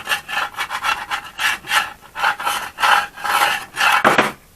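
Old cork rocker cover gasket being scraped off a Reliant Robin engine, with rhythmic rasping strokes, about a dozen back-and-forth scrapes in quick succession, close and loud with no talking.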